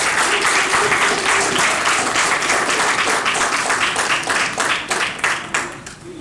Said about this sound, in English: Please, big round of applause for Monica.